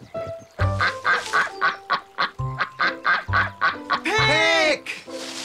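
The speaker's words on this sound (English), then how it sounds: "A clue like a quack. Did you hear that, B2?" Peck, a cartoon duck from Bananas in Pyjamas, quacks loudly in a rapid, regular series of honking calls, ending in a longer squawk, close and alone.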